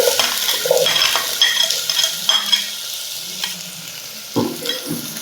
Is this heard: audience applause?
no